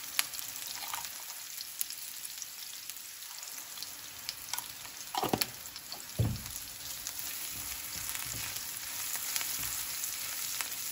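Sliced onions frying in a pan while cooking a potato and long bean stir-fry, a steady soft sizzle close by with occasional sharper crackles and clinks of stirring, no talking over it.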